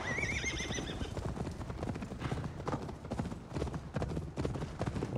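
Rapid rhythmic hoofbeats of a galloping horse in the video game Assassin's Creed Valhalla, with a horse neighing near the start, steady and fairly loud.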